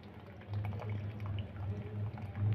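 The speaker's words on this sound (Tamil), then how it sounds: "நல்லா திக்காக கரைச்சி ஊற்றுறேன்" Thick tamarind water pours into boiling sambar for a Karnataka-style idli sambar, a steady low liquid gush and bubbling that runs close and continuous for a few seconds.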